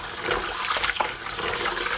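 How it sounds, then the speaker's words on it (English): Water sloshing and running steadily while rice is rinsed in a bowl or pot for Nigerian jollof rice, a continuous wet splashing with no talk over it. "So the way I rinse my rice 3 times to get rid of like all the stuff and everything."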